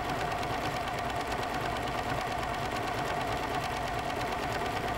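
A Pfaff sewing machine fitted with a wing needle stitches through fabric backed with lightweight stabilizer, giving a steady, close, continuous mechanical whir with a fast even stitching rhythm throughout.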